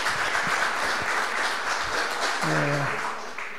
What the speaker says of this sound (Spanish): Así que vale el aplauso.